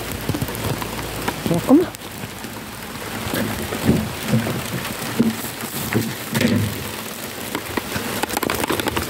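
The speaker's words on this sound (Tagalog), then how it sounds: "Ang ulan, grabe." Heavy rain pours down steadily outdoors, a dense continuous patter with a few louder splashes, while a person calls to a dog and speaks briefly.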